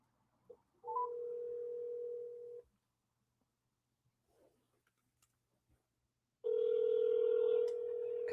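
A telephone call placed on speakerphone gives two long, steady electronic tones separated by a few seconds of silence, fairly clear and with no talking.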